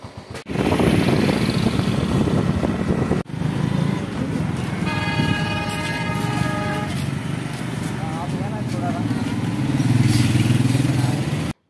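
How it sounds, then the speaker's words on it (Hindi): Motorbike ride through a busy bazaar during Ramadan shopping, engine drone running throughout while car and bike horns honk in short repeated bursts, with traffic bustle and voices around. "हम जा रहे हैं बाइक लेके"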